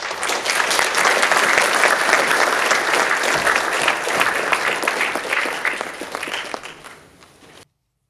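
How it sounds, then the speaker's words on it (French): An audience at a lecture on linguistic and cultural plurality in Madagascar bursts into sustained, dense applause that holds steady for several seconds, then thins out and fades before stopping. "Merci de l'applaudir."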